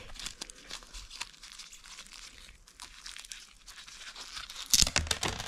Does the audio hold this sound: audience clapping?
no